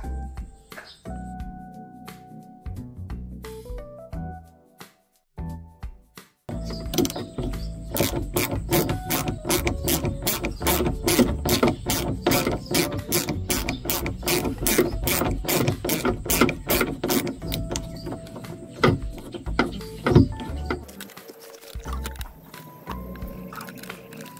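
Bolts on a car's outer door cable being loosened inside the door with a ratchet tool, making long runs of rapid close metallic clicks with brief pauses and clunks between them.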